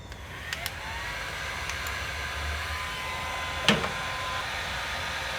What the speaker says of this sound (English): I'm gonna let the heat gun blow through here and warm up the rollers for a second before I start cutting